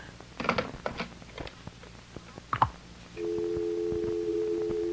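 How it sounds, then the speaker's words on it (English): A steady telephone dial tone starts partway through and holds unbroken to the end, after a few clicks, a thump and faint handling noises, in a radio drama. "It's just a dial tone."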